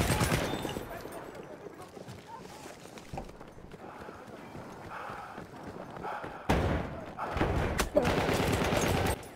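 Gunfire in close-range fights in the video game Battlefield 1: dense, overlapping shots and bursts that stay busy throughout and grow louder and sharper in the final few seconds, with no talking.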